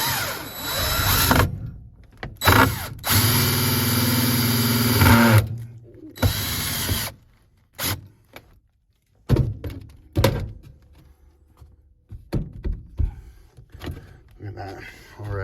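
Power drill driving a self-tapping screw, several loud bursts of whirring with abrupt stops and thunks between, close by, followed by quieter handling clatter and scattered knocks.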